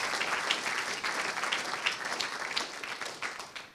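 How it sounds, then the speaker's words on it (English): A conference audience in Copenhagen applauds steadily for a few seconds, a dense, even patter of many hands in a hall with no speech over it. "So a round of applause to our many sponsors."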